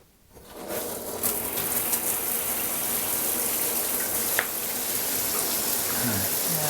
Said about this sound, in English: let me turn the water on and I'll show you how this thing drains